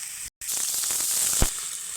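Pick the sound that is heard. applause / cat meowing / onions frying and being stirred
onions frying and being stirred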